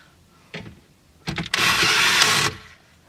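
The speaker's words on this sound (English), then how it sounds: "I'm using a drill gun." A cordless drill gun run in short bursts during a car radio installation in a 2010 VW Golf: a quick whir, a brief double buzz, then one sustained high whine for about a second, close by with no talk.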